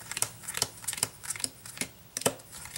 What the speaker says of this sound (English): you can shuffle these and use them like playing cards in a way